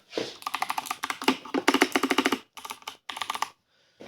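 Brisk typing on a new laptop keyboard, a dense run of crisp clicky keystrokes in quick bursts with short pauses, close and clear, no talking.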